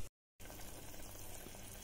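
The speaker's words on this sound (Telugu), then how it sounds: "ఇవి కొంచెం సేపు ఉడకనిద్దామండి" Goat trotter soup (paya) with tomato and carrot simmers in a pot, a soft continuous bubbling hiss heard close and alone after a brief silent gap at the start.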